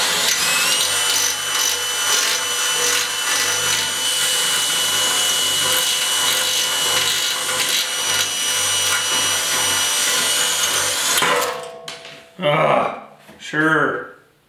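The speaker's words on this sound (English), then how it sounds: "Drill bit's working pretty good to get inside here" Steady loud power-tool whine of a drill bit grinding into the inside of a rusty Yamaha RS 100 motorcycle fuel tank for about eleven seconds, then it stops and a few short bursts of clatter follow.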